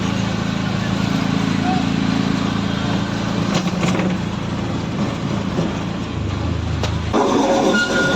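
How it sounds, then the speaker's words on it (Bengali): A small toy train rumbles by nearby under a constant engine drone, with a couple of sharp clanks and a shift in tone as it passes, near Siliguri. "পথে দেখা হয়ে গেল the world famous toy train যেটা যাচ্ছে আমাদের এনজিবি স্টেশন"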